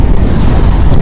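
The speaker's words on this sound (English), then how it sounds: "it's getting windy. Hopefully that microphone's working" Strong wind buffets an outdoor microphone at a hilltop wild camping spot, a loud, continuous low rumble with gusty flutter throughout and no voices.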